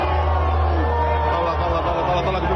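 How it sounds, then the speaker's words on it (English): A large crowd roars and jeers loudly and continuously, with shouts and whoops rising out of a dense, sustained wall of booing. "it sounds like they booed him quite prodigiously"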